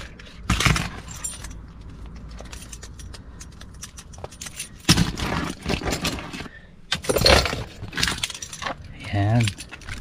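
A bunch of keys jangles and clinks in several short, close bursts separated by quiet gaps, with a bit of handling noise.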